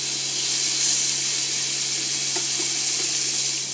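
Pork cooking in a pan just after being flipped, giving a steady, fairly loud hiss of frying with a few faint pops, continuous and without voices.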